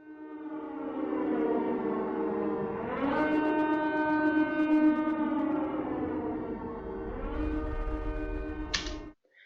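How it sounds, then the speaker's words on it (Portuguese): A loud, sustained horn blares with steady harmonic tones, swelling around the middle and easing back before cutting off abruptly at the end. "E aí tem o fatídico momento onde entra a buzina."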